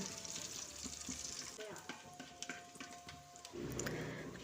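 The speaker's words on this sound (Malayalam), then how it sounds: "ചെറുതാക്കി കട്ട് ചെയ്ത് വെച്ചിട്ടുള്ള വെളുത്തുള്ളി പീസും കൂടെ ഒന്ന് ആഡ് ചെയ്ത് കൊടുത്ത് ഒന്ന് റോസ്റ്റ് ചെയ്തെടുക്കുക" Chopped garlic roasts in melted butter for a mushroom curry, making a soft, continuous sizzle close by, broken by scattered clinks and scrapes of stirring that swell louder near the end.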